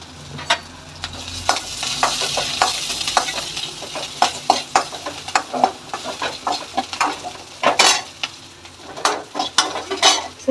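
Chopped garlic, onion and green chillies frying in hot oil for homemade noodles, a loud continuous sizzle broken by repeated scraping stirs and clacks of a spoon in the pan, close and steady throughout.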